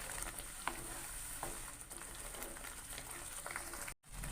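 Paneer butter masala with chopped coriander and mint is stirred in a pan, producing a faint, steady simmering sizzle with a few soft spoon taps, ending in a short abrupt gap near the end.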